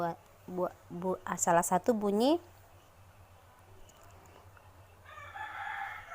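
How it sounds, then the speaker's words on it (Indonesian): A rooster crows loudly and nearby, one long rising-and-falling call, followed by quiet background and a fainter bird call at the end. "ayam berkokok, itu salah satu bunyi"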